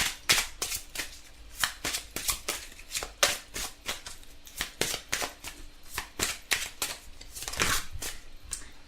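Tarot cards being shuffled by hand, a quick run of crisp riffling slaps and flicks in an irregular rhythm, close and fairly quiet, with no speech over it.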